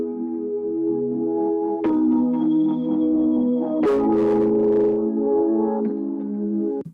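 Music mix with one channel's EQ sharply boosted in a band, giving a harmonically rich instrumental passage that shifts colour and brightens, with bright upper accents midway, loud and steady throughout with no talking.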